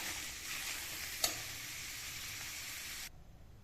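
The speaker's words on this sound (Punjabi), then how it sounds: "ਇਹਨੂੰ ਵੀ ਆਪਾਂ ਹਲਕੇ ਗੈਸ ਤੇ ਤੇਜ਼ ਘੱਟ ਤੇ ਫਰਾਈ ਕਰਾਂਗੇ" Paneer frying in a pan over a low gas flame gives off a soft, continuous sizzling hiss, with one small clink partway through. The hiss fades out near the end.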